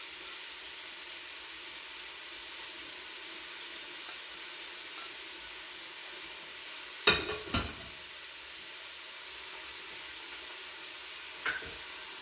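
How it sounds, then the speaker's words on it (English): Soft, steady sizzling of onions in an Instant Pot with a few brief clatters and scrapes partway through, no voices. "I don't know if you can hear those onions, but they're going. They're sizzling well."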